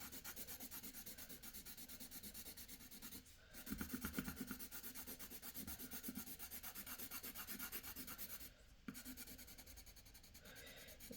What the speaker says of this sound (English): I'm gonna like darken it by coloring with a black pencil over.